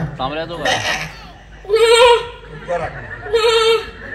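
Person imitating a goat's bleat at a Maghi Ganeshotsav community gathering: a spoken lead-in followed by two loud, wavering nasal bleats, each about half a second long, voiced close up.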